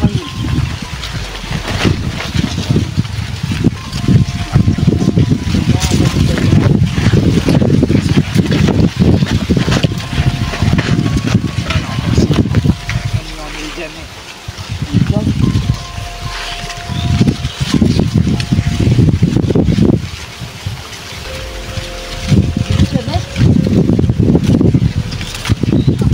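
Strong wind buffets the microphone in loud, roaring gusts that rise and fall over a long stretch, with no clear talk above it.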